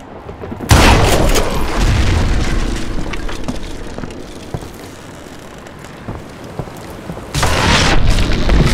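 A gunshot in the Call of Juarez Gunslinger video game, fired at a rope holding up a footbridge, comes as a sudden loud boom followed by a long rumbling tail. A second loud burst follows near the end.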